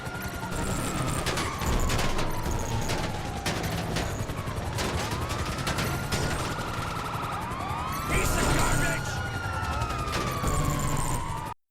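Atomizer weapon fired as drive-by shots in GTA Online, rapid zapping blasts over sirens and rising, falling electronic whines, loud and continuous throughout.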